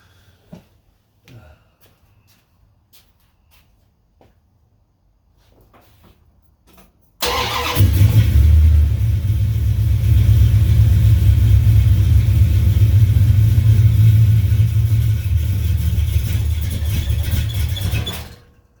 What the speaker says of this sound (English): so we'll fire it up, see how it goes